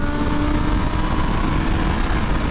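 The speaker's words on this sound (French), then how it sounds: "Et tu l'entends ce 4 cylindres qui rugit, c'est vraiment le terme, il rugit." A 2024 Suzuki GSX-S1000GX four-cylinder motorcycle engine roars continuously, a loud, gritty, steady growl up close with no voices.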